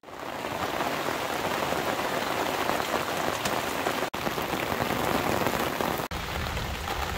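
Steady rain pours down close by, a dense, even hiss of drops hitting surfaces that continues without a break, with two momentary dropouts and no voices.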